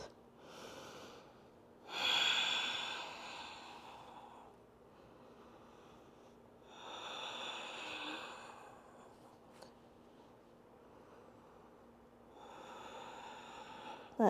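Slow, deep breaths drawn in and let out during a seated floor yoga stretch, each one a soft airy swell a few seconds long, separated by quiet pauses, close and fairly faint with no talking.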